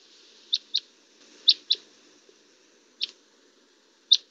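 Eastern-type finch call notes played back from a recording, a series of sharp squeaky up-down chirps in pairs and singles, fairly clear against faint background hiss, with no talking.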